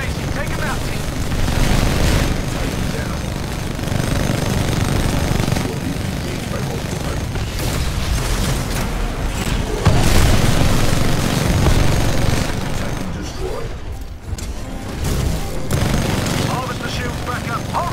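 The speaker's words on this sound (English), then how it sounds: "There are mortar titans launching rockets at the harvester" Mortar titans fire rockets at the harvester in Titanfall 2 Frontier Defense, a dense, continuous barrage of booms and gunfire rumbling loudly throughout, with heavier blasts swelling around the middle.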